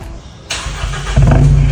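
An Isuzu D-Max pickup engine cranks and starts with a loud burst, then settles into a deep, throaty idle through an aftermarket HKS exhaust, close and loud.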